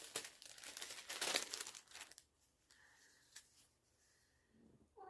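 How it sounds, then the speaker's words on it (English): Cross-stitch fabric crinkles and rustles while being handled close by, with the crinkling loudest early on, then fading to quieter scattered rustles. "See if I can do this without making too much crinkly noises."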